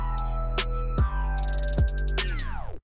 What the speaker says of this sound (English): The tape stop effect is super easy and Caustic.